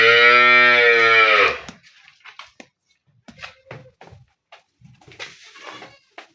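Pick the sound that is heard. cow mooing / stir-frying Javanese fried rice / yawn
cow mooing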